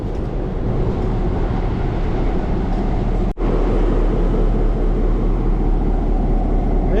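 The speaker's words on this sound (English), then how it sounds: "We're at the Kentucky Railway Museum. Getting ready to ride this train." A heritage train at the Kentucky Railway Museum produces a loud, steady broadband rumble that runs without a break for about seven seconds, with no talking over it.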